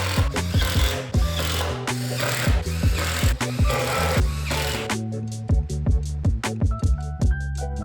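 A power drill whirs in short bursts, its pitch rising and falling as it bores into the side of a wooden shop cart, with a scraping, rhythmic grind close up.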